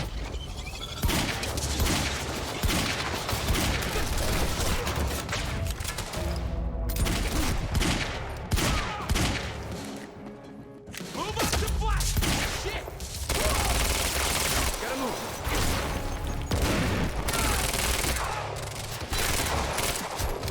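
Dense, continuous gunfire from a gun in the video game Quantum Break, loud bursts and rapid volleys filling nearly the whole stretch with only brief lulls, with a voice speaking over it.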